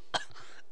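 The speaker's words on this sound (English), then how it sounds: "I think I got a kennel cough." A single short, sharp cough, fairly quiet, followed by near silence.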